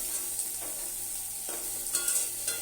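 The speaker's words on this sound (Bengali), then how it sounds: "তো এখন আমি রান্না করছি উচ্ছে ভাজা।" Bitter gourd frying in a pan on a home stove gives a low, steady sizzle with a few soft stirring scrapes, heard close and alone.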